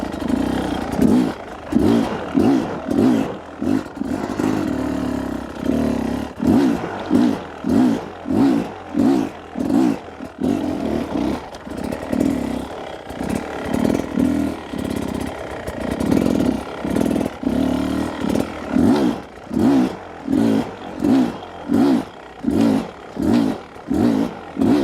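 An enduro motorcycle engine works through slow clutch-control drills. It pulses in a steady throttle-and-clutch rhythm for about twenty-five seconds, loud and close, with scraping clatter between the bursts.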